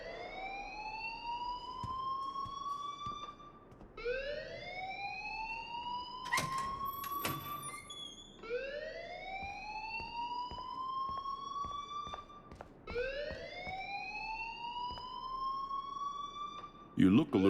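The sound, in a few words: alarm ringing in the video game Life Is Strange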